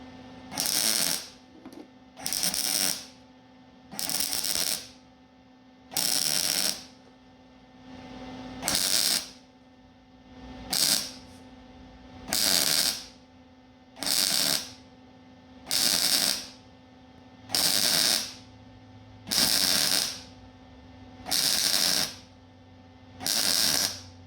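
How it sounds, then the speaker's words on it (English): Bursts of MIG-style welding on a 1948 Chevy truck, about fourteen crackling, buzzing passes of roughly a second each, separated by short quiet gaps under a faint steady hum. "And we're going to weld it up."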